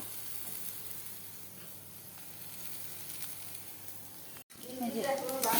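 Potato and bitter gourd fry in a pan with a continuous low sizzle, briefly cut off near the end before a louder, brighter burst of crackling frying returns.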